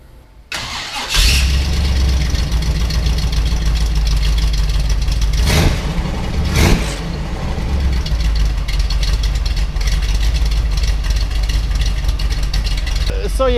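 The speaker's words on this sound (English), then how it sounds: "It's got a nice rumble to it, but it's definitely not what it appears to be." Pro street car with a stock exhaust cranks over and fires up, then settles into a steady, loud, mellow idle rumble with a couple of brief blips, close by and without talk.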